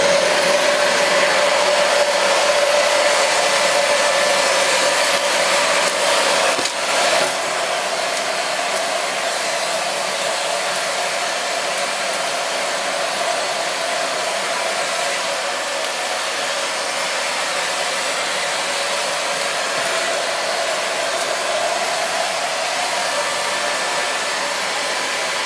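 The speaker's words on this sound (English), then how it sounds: "make sure there's suction at the hose, and we'll pick these bits up with the hose." Dyson DC25 multi-floor bagless upright vacuum cleaner drawing air through its hose, a loud, steady high-pitched whine and rush that holds continuously, with a slight change in tone early on.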